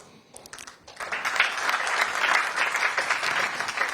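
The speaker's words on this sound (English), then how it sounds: "Another round of applause." Sustained audience applause at a national science and maths quiz championship launch event, starting softly then swelling into a steady, dense wash of clapping from a large crowd.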